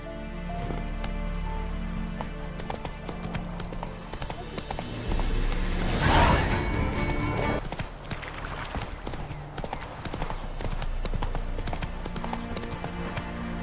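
Roach, a horse in the video game The Witcher 3, gallops in a rapid, even clip-clop of hooves that continues with a brief louder swell midway, over soft background music.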